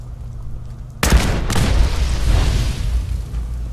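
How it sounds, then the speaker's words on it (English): In Fallout 4, a sudden loud blast hits after a low rumbling hum, followed by a sustained crackling roar of continued explosions and debris, dense and close. "Explosions."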